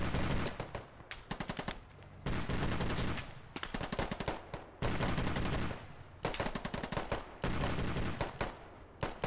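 Dense gunfire rattles through the military shooter game Squad, loud bursts of automatic rifle and machine-gun fire with brief pauses between volleys, with no voices over it.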